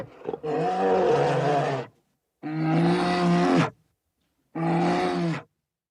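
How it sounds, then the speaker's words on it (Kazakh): A bear roars three times in deep, rough, drawn-out bursts separated by short silences, each roar loud and close. "аю,"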